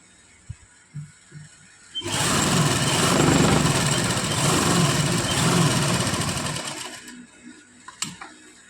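A sewing machine stitching a kameez runs in one continuous, loud, fast mechanical whir for about five seconds, starting and stopping abruptly, with faint handling clicks before and after.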